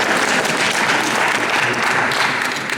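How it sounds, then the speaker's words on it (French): An audience at a contemporary art salon applauds warmly, steady dense clapping heard close and sustained throughout without pause. "On l'applaudit."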